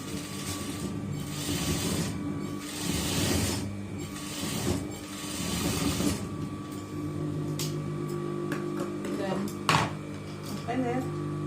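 Sewing machine stitching a pocket onto a pair of shorts, a close mechanical whirring in several runs with pauses, and someone talking softly over parts of it.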